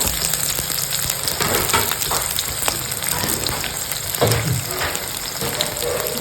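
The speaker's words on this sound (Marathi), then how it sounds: "याला आपण परतून घेऊ जास्त लाल पण नाही होऊ द्यायचा कांदा" Finely chopped garlic and onion with green chili sauté in a pan for papad chutney, producing a steady close sizzle with occasional stirring knocks and scrapes.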